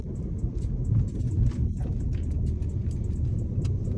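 A Suzuki Swift Sport 1.6 VVT with 136 hp rolls over a speed bump, giving a steady low engine and road rumble with a couple of soft suspension thumps near the start, and no one speaking.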